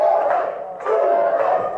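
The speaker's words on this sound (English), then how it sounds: "Crowd getting behind Billie Starkz" A wrestling arena crowd cheers and chants in loud, rising swells for Billie Starkz, a brief burst of massed voices with rhythmic surges.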